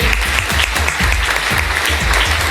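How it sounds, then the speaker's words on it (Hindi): Loud, dense applause from a seminar audience fills the hall, with low rumbling thumps and a steady wash of clapping throughout. "एक बार चाहूंगा जोरदार तालियां होनी चाहिए"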